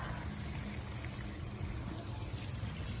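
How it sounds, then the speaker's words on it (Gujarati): Irrigation water trickles slowly into a farm field, a faint, steady low gurgle and wash with no voices over it. "જોવો તમે, હવે પાણી રાગે રાગે આવે છે."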